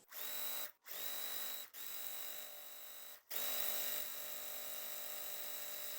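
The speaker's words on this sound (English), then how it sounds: "I'm gonna sew this first and then we're gonna come back and sew the next segment" A sewing machine stitches quilt block pieces in a steady, close whirring run that stops briefly two or three times and then carries on.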